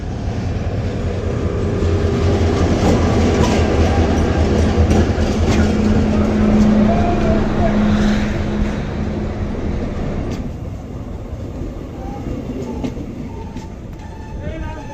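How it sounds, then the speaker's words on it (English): A train pulled by a locomotive rumbles into Sfax station in Tunisia, its loud, steady rolling noise with clanks and squeals gradually easing as it slows, while a voice talks over it. "And eventually my train pulled into the station."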